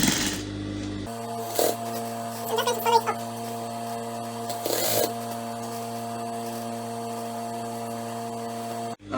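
A sewing machine top-stitches blouse fabric, a steady mechanical whir running through most of the stretch after a brief start, with a few clattering bursts along the way.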